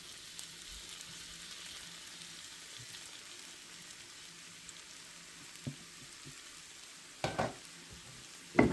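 Vermicelli and beef fried in a pan with seasoning and added juice, stirred: a steady close sizzle runs throughout, with a few louder scraping knocks of the spoon near the end.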